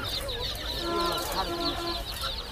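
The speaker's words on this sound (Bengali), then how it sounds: "তো প্রথমে একটা মোরগ দেখছি" A rooster clucks and calls at a poultry market in Hemayetpur, heard close and fairly clear against busy market background noise.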